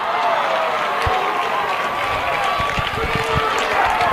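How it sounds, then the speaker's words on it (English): A crowd roars loudly and continuously at a 6A high school baseball semifinal between Lehi and Riverton, with scattered claps and shouts under the sustained cheering. "And just listen to this crowd."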